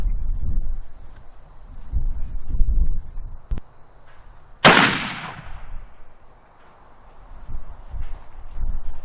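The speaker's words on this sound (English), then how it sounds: "So I'm going to shoot at one of the smaller targets now" A single loud rifle shot from a 30-year-old Savage Model 110 in .243 fired at a target, one sharp crack that trails off slowly, set against quiet outdoor background rustle.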